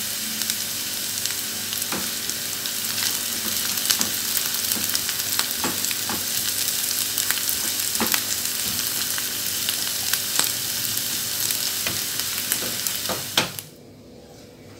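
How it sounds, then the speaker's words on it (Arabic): Chopped onion and pepper fry in a pan with a steady, close sizzle dotted with small pops and crackles. It continues until it cuts off abruptly near the end. "من بعد ما شحرت البصلة والفلفلة"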